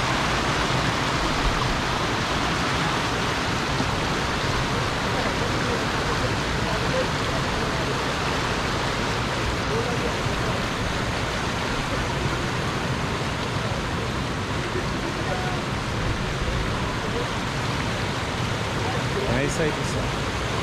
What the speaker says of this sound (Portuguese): Correnteza.